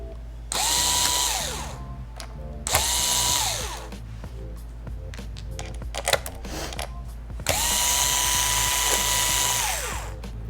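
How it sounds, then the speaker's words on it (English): Power screwdriver backing screws out of the palm rest of a Dell Chromebook 11 3110 laptop, three long whirring bursts with rising and falling pitch, separated by small clicks and handling of loose screws, close and loud. "Now you just want to take out all the screws in the palm rest."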